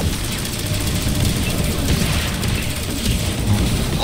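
Gunfire from ground troops in Halo Wars 2, a dense mix of rattling shots and dull booms running continuously and loud under a layer of battle noise, with no talk.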